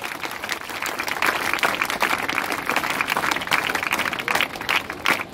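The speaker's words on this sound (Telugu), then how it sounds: "అందరూ కూడా చప్పట్లతో అభినందించాలి." An audience at a karate black belt grand test event claps in loud, sustained applause that holds steady for several seconds and stays close and dense throughout.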